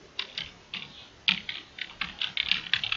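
Keys are pressed on a computer keyboard in a quick, uneven run of clicky taps, close and moderately loud, with no voices.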